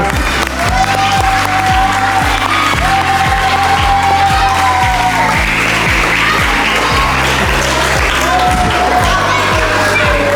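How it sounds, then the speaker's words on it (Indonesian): A school audience of parents and staff applauds a guest fire-safety speaker at an elementary-school fire drill and outreach event, with steady loud clapping throughout and a voice carrying over it. "saya persilakan tepuk tangan Bapak Ibu untuk Pak Faisal"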